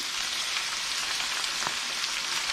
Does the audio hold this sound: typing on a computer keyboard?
no